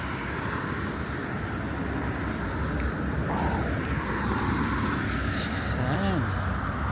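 A train passes through a snowy Canadian setting as a continuous low, distant rumble, with a person talking over it.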